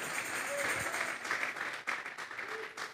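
A congregation claps in a church service as an offering of applause to God, a dense, steady patter of many hands filling the room for a few seconds with faint voices beneath.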